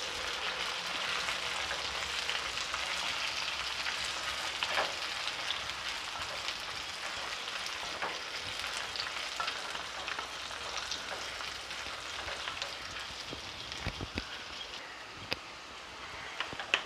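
Dried red chillies and garlic sauté in oil for a spicy garlic chutney, giving a steady soft crackling sizzle with occasional light stirring clicks.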